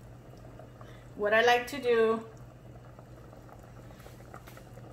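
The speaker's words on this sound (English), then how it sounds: "The menudo has been cooking right now already for 2 hours." Menudo simmers in a pot as a soft low bubbling beneath a short stretch of speech, the boil quiet and steady throughout.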